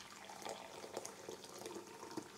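Freshly boiled kettle water is poured into a cooking pot, a faint continuous trickling and splashing stream heard quietly on its own.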